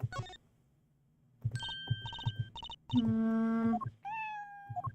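A cat in the Apollo Justice Trilogy game gives a few short meows, mixed with tonal chimes and game sound effects in a quiet scene.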